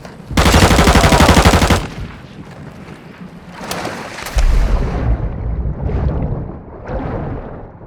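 Gunfire in the video game Warzone 2, a loud close burst of rapid automatic fire lasting about a second and a half, then scattered booming shots and rumbling combat noise fading out.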